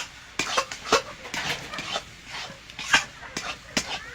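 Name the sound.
stirring roasted cumin into bottle gourd and prawn curry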